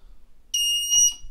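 An EST2 fire alarm control panel in test mode sounds its alarm tone after activation: a steady, bright electronic tone with harmonics that starts abruptly, holds for about half a second, then wavers briefly before stopping, heard fairly close with no talking.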